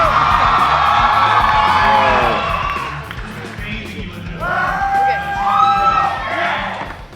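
Large Comic Con convention audience at a panel roaring with whoops, yells and cheers, loud and sustained, swelling again in waves of shouting.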